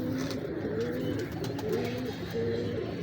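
Several pigeons of a fancy show breed coo in soft, rolling phrases that repeat throughout, close by, with a steady murmur of other birds underneath.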